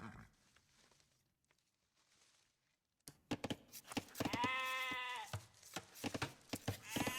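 Sheep bleat in a match of a real-time strategy game: after near silence, a sudden burst of game clicks leads into one long, wavering bleat, followed by further sharp clicks.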